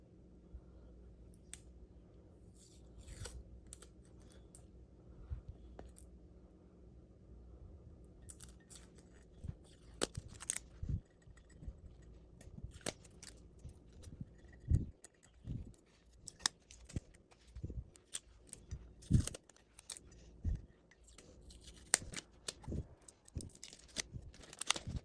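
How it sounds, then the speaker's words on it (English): Tape is peeled away from a sublimation-printed photo mug in quiet, scattered crackles and sharp little clicks that grow busier toward the end, with no talking. "now I'm gonna go ahead and peel back some of this tape."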